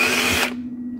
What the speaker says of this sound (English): sometimes you have to reverse the drill several times because it binds